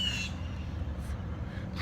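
Birds call outdoors, likely crows giving a few short harsh caws spaced apart over steady background noise, with no talking.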